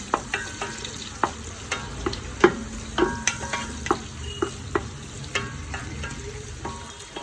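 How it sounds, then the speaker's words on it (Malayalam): Sliced onions sauté in a pan for a Thiruvananthapuram-style chicken biryani, giving a steady close sizzle broken by frequent sharp clicks and scrapes of a spoon stirring, with no one talking. "രണ്ട് സവാള അരിഞ്ഞു വെച്ചത് ഇട്ട് കൊടുക്കാം. നന്നായിട്ട് വാടി കിട്ടണം."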